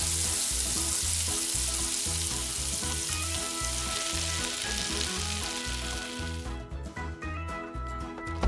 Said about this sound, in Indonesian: Goreng selama 10 menit.